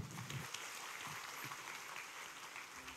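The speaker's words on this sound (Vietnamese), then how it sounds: "các bạn cho một tràng pháo tay" An audience applauds at a Buddhist summer retreat for young people at a temple, a steady wash of many hands clapping, fairly faint and distant, with no voices over it.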